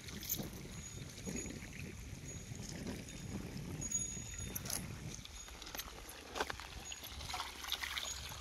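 Irrigation water flows onto a fenugreek crop in a farm field at the foot of the hills, a faint, continuous trickling and gurgling with soft splashes in the open air.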